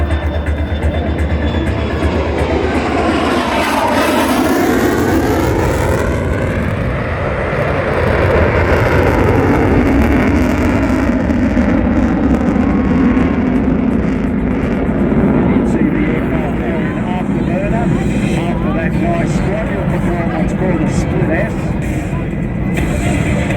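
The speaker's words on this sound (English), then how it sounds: "The aircraft coming in now, flown by Ross Bowman." RAAF F-35A Lightning II making a canopy-up pass at 300 knots at an airshow, a loud, sustained jet roar with a sweeping pitch shift as it passes, under a commentator's voice.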